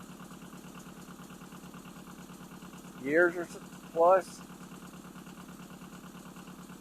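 Small Yanmar 1700 tractor engine idling as it warms up, a steady low mechanical rumble throughout, with someone speaking briefly over it midway.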